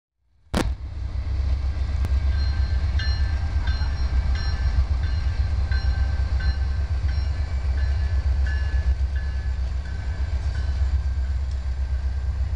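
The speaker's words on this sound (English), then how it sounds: "There's the Amtrak one." An Amtrak passenger train rolls past on a former Norfolk & Western main line in Roanoke, Virginia, with a steady heavy low rumble and wheel clatter that stay loud and close throughout.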